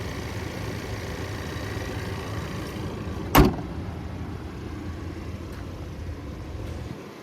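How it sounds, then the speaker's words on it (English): Manual sliding rear window of a 2023 Ford Ranger Lariat Tremor snaps shut once with a single sharp click midway, over a steady low rumble of the idling 2.3-liter EcoBoost four-cylinder. "You just pull up here and then slide it, and then you can just kind of snap it back into place."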